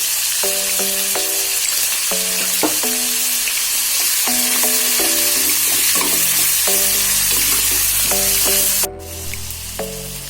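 Ginger garlic paste fries for a mutton liver fry, a constant bright sizzle running beneath a looping melodic music track throughout.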